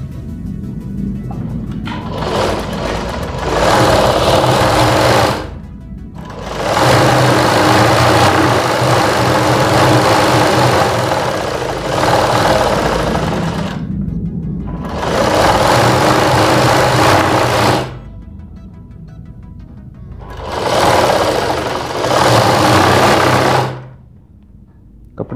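A sewing machine stitches fabric for a Rajputi outfit's piping trim, running in loud, close, steady bursts of several seconds each, broken by brief pauses.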